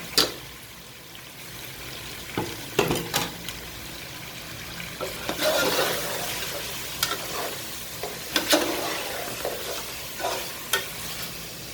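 Meat sizzles and fries in a pan while it is stirred for pulao, with green chilies being added; scraping stir strokes and clinks punctuate a steady hiss, close and alone with no talking.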